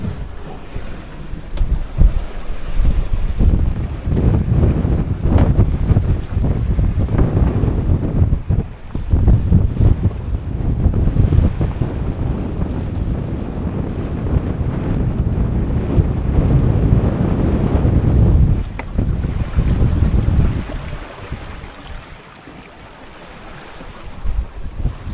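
Strong wind gusting over the microphone on a sailboat under full sail in building seas with whitecaps, loud rushing and buffeting that swells and eases, then dips quieter near the end.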